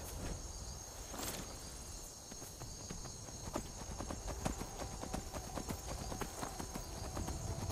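Horse hooves clip-clopping in a steady walking rhythm while riding through a video game world, with faint insect-like chirps and game ambience underneath.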